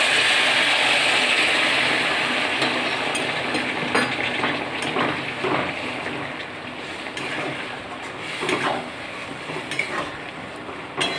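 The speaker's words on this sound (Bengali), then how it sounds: "পটলগুলো দিয়ে ভালো করে নেড়ে চেড়ে এর সঙ্গে মশলার সঙ্গে মিশিয়ে নেব।" Pointed gourd pieces stirred with spices in a hot pan for a pulao, giving a steady close sizzle with scraping spatula strokes throughout, and no voices.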